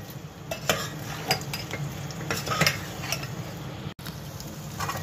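Potatoes stirred and fried in ghee with spices, a spoon scraping and tapping the pan over a continuous sizzle, close and fairly steady with no voices.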